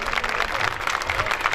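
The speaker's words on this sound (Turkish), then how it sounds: "Alkışlarınızla uğurlayalım sahneden Sayın Başkanımızı." Audience applause at an outdoor fig festival stage in Osmangazi, Bursa, as the mayor is seen off: dense, steady clapping from a large crowd, loud and continuous throughout.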